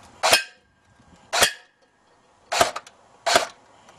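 Four sharp, close snapping shots from a homemade airsoft BAR 1918A2 rifle fired at a tin can, spaced about a second apart, each a crisp crack with a brief metallic ring and silence between.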